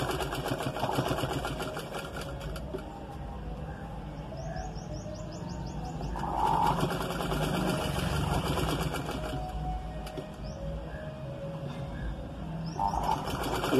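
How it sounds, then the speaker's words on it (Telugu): A sewing machine stitches a blouse in bursts of rapid mechanical whirring, with birds chirping in the background and short pauses between runs. "ఇలా కుట్టేసుకోవాలి."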